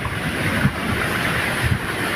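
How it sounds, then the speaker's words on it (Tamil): Rough sea surging onto Demur beach near Nagercoil in Kanniyakumari district, a loud continuous roar of churning waves with wind buffeting the microphone and a couple of heavier surges. "நாகர்கோயில் அருகே டேமூர் கடற்கரையில் கடல் சீற்றம்"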